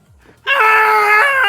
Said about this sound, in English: Sky, you hear the screaming.